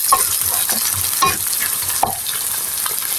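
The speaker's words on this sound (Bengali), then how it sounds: "আমি এই পেঁয়াজের সঙ্গে হালকা একটু ভেজে নিব" Chicken pieces frying lightly with onions in a pan, a steady sizzle with occasional stirring scrapes and spatula clicks, close and alone without talk.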